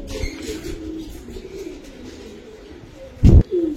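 Giribaz pigeons coo softly in low, throaty rolls close by, with a couple of louder thumps or flaps near the end and faint background chatter.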